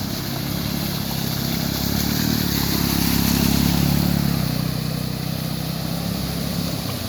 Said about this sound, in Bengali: একটা মোটরসাইকেল আসছে